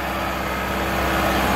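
A Massey 385 tractor engine runs steadily and loud, close by, a constant droning roar with no pauses, while the tractor works in a competition against a Fiat 640.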